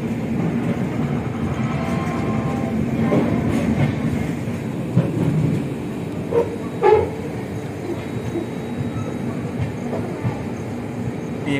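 A container freight train hauled by a WAG-7 electric locomotive from the Saharanpur shed rolls past at Kota Junction, a steady close rumble of wagons with faint clickety-clack and brief wheel clanks, with no talking.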